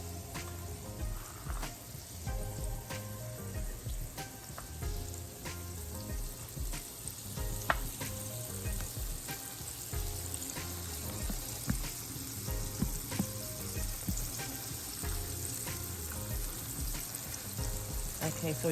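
Pork chops frying in a pan give off a steady, dense sizzle with crackling pops throughout, close and continuous, for stewed fried pork chops.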